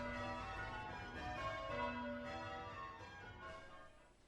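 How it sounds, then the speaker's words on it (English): Church bells ring in change-ringing patterns, a dense overlapping peal of tuned strikes rolling continuously and fairly faint, as if heard from some distance, with no voices. "when change ringing a named method, course or pathway, bob is called at certain strategic places, causing a temporary change in the pattern of the bells"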